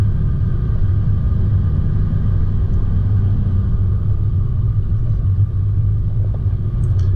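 A 4WD vehicle grinds up a steep mountain track, its engine giving a steady low rumble and drone close by, with no breaks and no talking.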